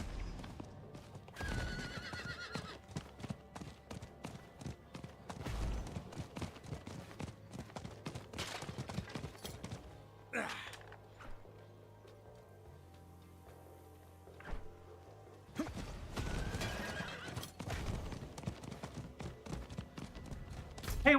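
Horse in the video game Diablo 4: loud neighs and whinnies with clip-clopping hooves, breaking off into a quieter stretch and then returning.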